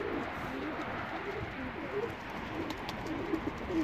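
Pigeons in a coop cooing repeatedly as two males go after a female, soft throaty coos and rustling flutters close by throughout.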